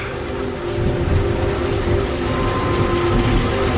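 A train rumbles through a busy station at night, a steady low roar with rhythmic clicking of wheels over rail joints, loud and close, with a faint hum running beneath it.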